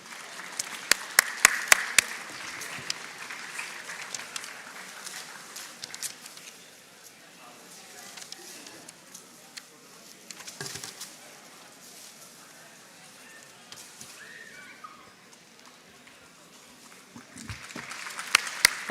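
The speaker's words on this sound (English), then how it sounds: "Please put our hands together." Audience applause for dignitaries at an International Women's Day event at IIT Kharagpur, with sharp claps in the first seconds, then a steady, fainter patter of hand clapping that continues across the hall and rises briefly again near the end.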